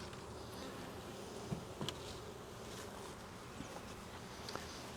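Honey bees buzz faintly and steadily inside a glass observation hive, a soft continuous drone with a few light taps and knocks.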